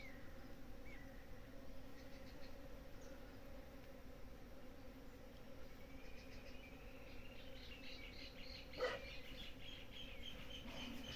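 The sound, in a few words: native bees buzzing in the cerrado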